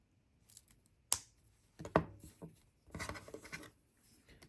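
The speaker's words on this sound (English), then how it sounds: "So we'll cut that down to about 1/2 inch." Jewelry wire for an earring loop is trimmed with cutters, giving two sharp, close snips about a second apart, set among light handling rustles and clicks of tools on a work surface.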